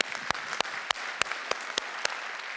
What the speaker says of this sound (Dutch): geef hem alvast een groot applaus, dames en heren